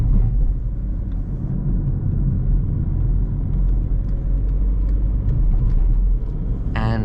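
A car engine pulling steadily in third gear through city streets, a continuous low rumble and road noise held at an even level close by, with a brief brighter rattle near the end.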